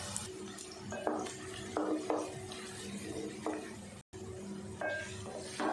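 Onions sizzle and fry in hot ghee while a spoon scrapes and stirs against the pan in repeated strokes, close and moderately loud.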